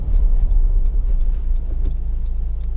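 A Honda CR-V 2.2 i-DTEC EX 4WD diesel driving along a road test route, a steady low engine and road rumble heard from inside the cabin, continuous with faint ticking and rattles above it.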